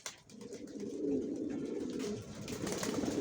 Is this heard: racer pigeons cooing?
yes